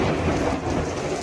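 A thunderstorm with rain: a deep rumble of thunder rolls beneath steady, heavy rainfall, loud and continuous throughout the brief moment, with no speech.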